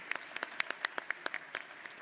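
A conference audience claps for a panelist, a brief burst of scattered, fairly distant applause with individual hand claps audible in an irregular patter.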